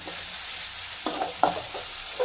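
Onions sauté with cumin, a cinnamon stick and bay leaf in a pan, giving a soft, steady sizzle with a couple of close stirring scrapes.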